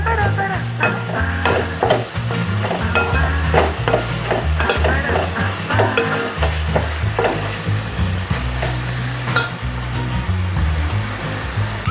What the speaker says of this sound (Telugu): చూడండి నేను మిక్స్ చేస్తున్నాను.